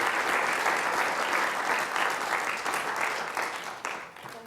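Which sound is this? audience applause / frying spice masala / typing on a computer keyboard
audience applause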